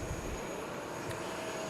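Hong Kong Express airliner moving at Fukuoka Airport in Japan, a steady, fairly distant engine roar holding evenly through the whole short stretch with no voices.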